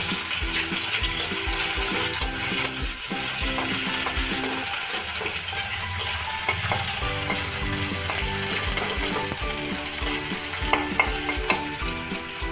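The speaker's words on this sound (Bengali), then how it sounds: "তো পেঁয়াজটা একটু ভাজা ভাজা হোক" Onions fry in a pan with a steady, close sizzle that runs unbroken throughout, with faint scraping and stirring clicks over it and no talking.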